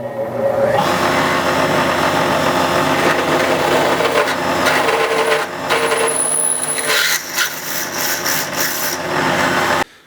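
A power drill bores a hole through a metal oil catch can for a 2014 GMC Sierra, giving a loud, continuous grinding whir that shifts in pitch partway through and then stops abruptly at the end.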